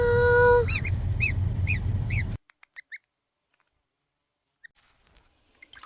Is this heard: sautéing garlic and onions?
no